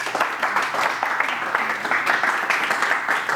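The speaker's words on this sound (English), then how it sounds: "Round of applause, please." Applause from an evening gathering at Bet Gavriel welcoming Rabbi Eliyahu Bergstein, a steady wash of many hands clapping throughout at moderate loudness, fairly dense and continuous.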